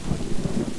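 Thunder rumbles low and continuous beneath steady rain in a storm at sea, a dense, heavy wash of sound with no voices.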